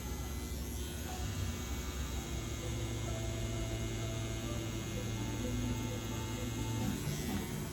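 A cam-driven Stigma Thorn tattoo shader machine runs steadily on its own, giving a continuous close electric buzz with a firm, punchy hum throughout.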